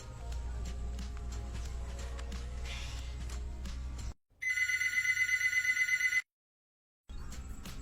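A phone call rings out: faint, regular clicking ticks, then a sharp, steady electronic ringing tone for about two seconds, followed by abrupt silence.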